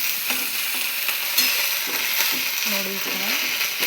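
Food being stirred in a hot pan on a gas stove, with a steady sizzle of frying and scraping, clattering stirs repeating throughout as someone speaks over the cooking.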